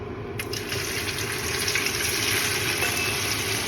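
French fries frying in very hot oil give a steady, dense sizzle that stays close and even throughout, with no voices over it.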